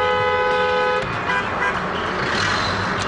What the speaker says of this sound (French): ça klaxonne dans tous les sens